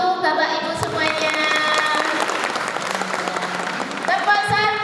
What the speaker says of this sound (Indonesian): Beri aplaus dulu Bapak Ibu semuanya